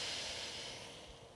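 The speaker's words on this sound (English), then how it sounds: "And exhaling that air out of your nostril." A slow exhale of air out through one nostril during a calm breathing exercise for kids, a soft steady hiss of breath that fades gradually, with no talking.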